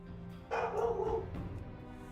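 A single dog gives one short yelping bark followed by a brief whimpering tail, fairly quiet over a low steady background hum.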